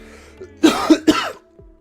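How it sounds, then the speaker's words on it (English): Three quick, close coughs in a row, harsh and throaty, with near silence before and after. "Already coughing during the stream."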